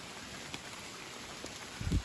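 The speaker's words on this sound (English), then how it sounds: "Still raining." Rain falls on a forest hiking trail in the Allegheny National Forest, heard as a soft, steady patter with a few scattered drop ticks and a low bump near the end.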